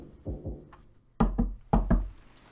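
Two loud double knocks land hard on a wooden door in Umineko When They Cry, each pair close and sharp, coming after two softer earlier thumps.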